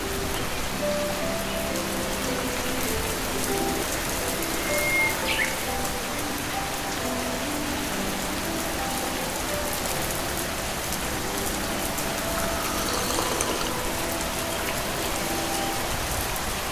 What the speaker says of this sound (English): The rain makes everything feel so peaceful.